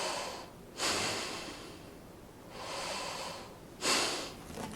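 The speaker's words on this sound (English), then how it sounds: "It's hard to hold this down for 5 minutes and do diaphragmatic breathing for 5 minutes" Slow, deep diaphragmatic breaths during a breathing exercise, heard close and fairly quiet: three strong airy inhales or exhales with softer breathing between them, no talking.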